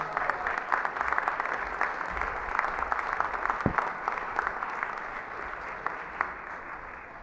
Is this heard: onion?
no